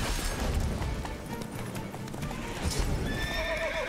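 In the Witcher 3 video game, a horse's hooves clatter close and steadily while it whinnies, with a sharp impact-like thud partway through and no talking.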